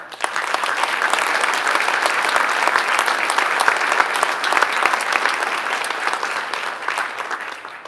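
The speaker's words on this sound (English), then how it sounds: "how about another round of applause for each of the heroes we have just met" A hall audience applauds the heroes at the National Association of Letter Carriers Heroes of the Year ceremony with dense, sustained clapping that holds steady for several seconds before tapering off at the end.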